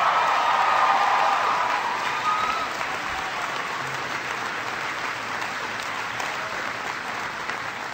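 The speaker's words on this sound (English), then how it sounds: "give Leslie a great round of applause for her wonderful introduction" Loud, sustained audience applause fills a large hall at a presidential health care event in Pennsylvania, strongest at first and then holding steady as a dense wash of clapping with no talk over it.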